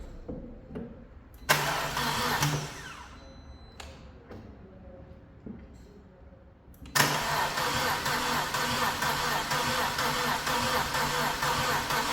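A BMW engine cranks after repair, catches, falters, then starts and settles into a loud steady running hum, recorded close in a quiet space.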